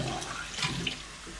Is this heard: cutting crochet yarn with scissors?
no